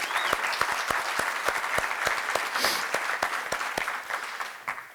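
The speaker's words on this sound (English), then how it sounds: "I'd like to give another round of applause for Marissa for all the work that she's done" Audience applause at a mayoral event in Houston, a steady burst of many hands clapping throughout, fairly loud and close, tapering slightly near the end with no speech over it.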